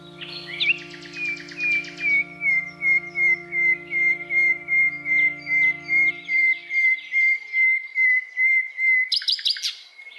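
A nightingale sings alone and close, a long pure sustained whistle that is then broken into a rapid string of short chirping phrases, pulsing steadily over a low steady background hum that fades away midway.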